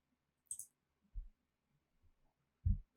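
A few soft, isolated computer mouse clicks spaced apart, quiet and close, in an otherwise near-silent room.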